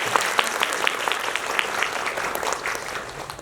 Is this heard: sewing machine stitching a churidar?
no